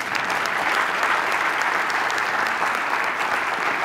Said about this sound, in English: I would just appreciate a round of applause for Drs. Urban, Ray, and Dabrowska.